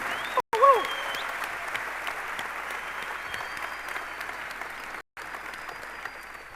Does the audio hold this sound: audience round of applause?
yes